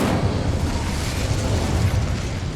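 A fire spell cast in Hogwarts Legacy on PS5 gives a loud, sustained roaring whoosh of flame, like a continuous blast, filling the whole moment with no speech over it.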